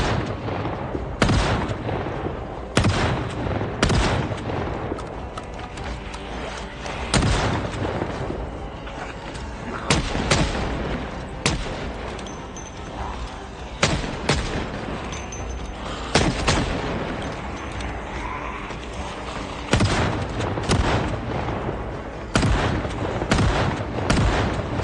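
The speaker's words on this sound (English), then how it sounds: "Shotgun time." Shotgun blasts in the zombie survival game Project Zomboid: repeated loud, sharp booms fired at irregular intervals over a dense, noisy game background throughout, with no talk.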